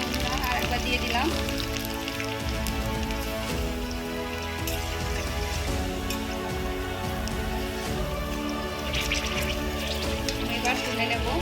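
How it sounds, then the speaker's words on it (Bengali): Phuchka puris puffing up as they deep-fry in hot oil, a dense continuous crackling sizzle heard close and loud, with a person speaking over it. "কত সুন্দর ভাজা হচ্ছে"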